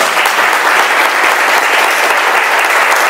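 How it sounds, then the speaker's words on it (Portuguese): Loud, sustained applause from a church congregation clapping for the Lord; a dense, even wash of many hands close by, with no talk over it. "Você pode dar um aplauso ao Senhor?"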